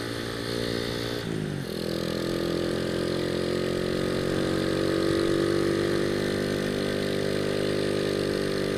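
A motorcycle fitted with 14-33 gearing climbs a long uphill in low gear. After a brief dip, the engine holds a loud, steady high-revving drone close by, with no voices.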